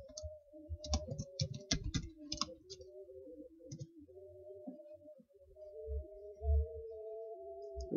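Keys clatter on a computer keyboard as an address is typed, a dense burst of clicks early on, then sparser taps over a steady hum, with no talking.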